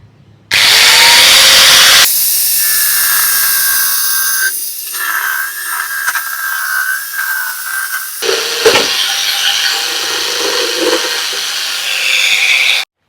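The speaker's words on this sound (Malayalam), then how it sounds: "മരം നമ്മൾ പകുതി ഇങ്ങനെ കട്ട് ചെയ്തെടുക്കാൻ വേണ്ടി പോവുകയാണ്" A robotic cutter machine saws through wood to split it in half, a loud, steady high-pitched whine that changes pitch and load as the blade bites, with a harsh scraping burst partway through.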